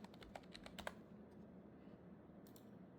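Bursts of quick computer keyboard typing, close but quiet, clustered at the start with a few scattered taps later over a low hum; no one speaks.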